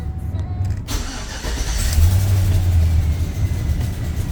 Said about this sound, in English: when you turn the truck on